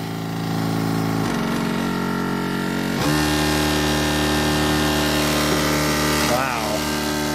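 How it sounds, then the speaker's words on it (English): Motor driving a homemade Gerard Morin-style pump, a loud steady mechanical hum with sustained whining tones that shift pitch around the one- and three-second marks, running continuously. "Motor's still running pretty good."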